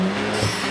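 A Volkswagen MK8 GTI engine breathing through a Unitronic carbon fibre air intake gives a brief, loud, steady rumble, heard alone.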